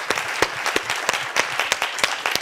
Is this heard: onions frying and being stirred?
no